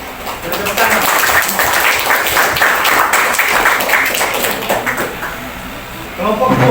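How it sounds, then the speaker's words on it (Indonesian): A classroom group applauds after a counseling presentation, a loose patter of clapping over several seconds with some voices mixed in. "Tepuk tangan."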